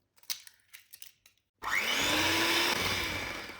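After a few quiet taps and knocks, an electric blender starts up loud and close, whirring continuously as it mixes eggs into orange cake batter, its pitch easing slightly toward the end.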